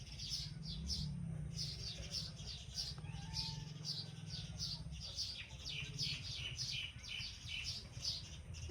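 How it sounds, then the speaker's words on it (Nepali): Small birds chirp and tweet in a flower garden, with quick repeated high calls in bursts throughout, moderately close over a low steady background hum, and nobody speaking. "आहा, कति राम्रो चराचुरुङ्गीहरूको आवाज है।"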